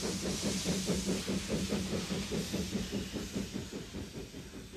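A three-axle steam tank locomotive of 350 horsepower on the Sauschwänzlebahn railway chuffs in a steady rhythm of exhaust beats, with hissing steam over the top, loud and close.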